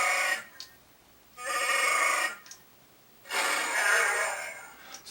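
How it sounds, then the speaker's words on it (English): A toy Chewbacca mask's sound card plays growling, bleating Wookiee roars, three long raspy bursts separated by short pauses with small snorts in between, fairly close and loud. "it would actually make Chewbacca sounds"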